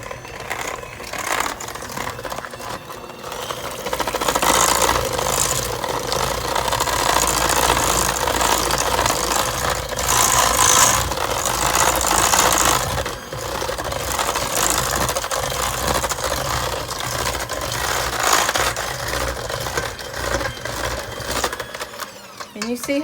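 Peanut butter cookie dough being mixed with an electric mixer, a steady mid-pitched motor whir running near and loud for most of the stretch, starting and stopping near the ends.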